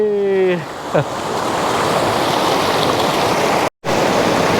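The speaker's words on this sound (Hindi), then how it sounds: "ये पानी का भयंकर शोर आ रहा होगा आपको" Loud, continuous rushing water roars close by at Birthi Waterfall, a dense wash of noise with a brief voice at the start and a momentary dropout.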